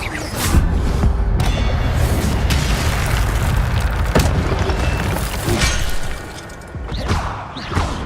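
The Incendio fire spell cast in Hogwarts Legacy, a loud roaring burst of flame with booming, crashing impacts that rumbles on steadily and then fades briefly before flaring again.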